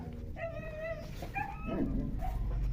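An Anatolian shepherd (Kangal) dog whimpers close by in a few high, wavering whines separated by short pauses, with faint low background noise.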